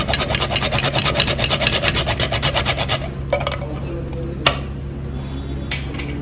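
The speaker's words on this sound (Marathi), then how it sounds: "थोडेसे जायफळ आपण किसून घालूया" Nutmeg grated by hand on a rasp in a home kitchen while preparing sweet filling for Maharashtrian gharge, giving a steady rhythmic scraping for about three seconds, then stopping, with a few light clinks and taps of utensils after.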